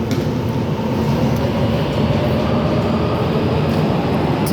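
An old Hong Kong metro train at the Wan Chai platform rumbles steadily, a dense, continuous rolling roar with faint clicks, close and fairly loud with no talking.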